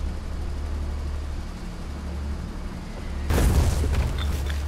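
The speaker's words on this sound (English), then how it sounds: "I just sprung the artillery" Artillery shells explode in Foxhole, a war video game: a sudden loud broadband boom hits partway through and rolls into a sustained rumble, after a stretch of steady low engine-like drone.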